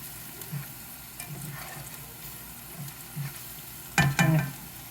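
Pressed garlic sizzles softly in olive oil in a pan, a low steady frying crackle with a few stirring scrapes and a louder clatter near the end.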